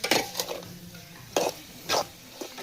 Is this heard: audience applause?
no